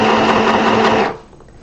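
A sewing machine back-stitches along elastic in a fabric bonnet, giving a steady, close, continuous whirring hum that cuts off abruptly near the end into near silence.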